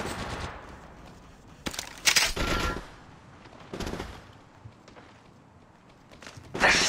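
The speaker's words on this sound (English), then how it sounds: "They're shooting at me." Gunfire in the video game Apex Legends: several short bursts of shots come in clusters, with a loud volley near the start, another mid-clip and a sharp burst at the end. Quieter shuffling noises fill the gaps, and no one speaks.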